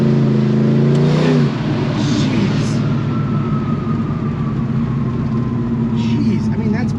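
A 1970 Chevrolet Chevelle 454 SS with a 632ci Merlin big-block V8 pulls hard in third gear, heard from inside with the windows down. The engine drones deep and loud, with a rising tone after a brief gear change.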